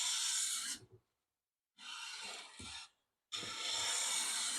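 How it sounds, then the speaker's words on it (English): A hand plane shaves the quarter-sawn face of a beech board in three long, close, hissing strokes, each a smooth continuous rasp separated by brief silences. "I'm planing this piece of beech to be used as a sample for oil drying and wood finishing tests."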